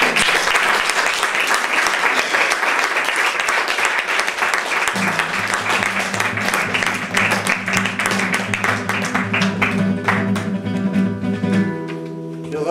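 An audience at a café cabaret applauds Malek Chebel with loud, sustained clapping, joined partway through by steady tonal music underneath the dense applause.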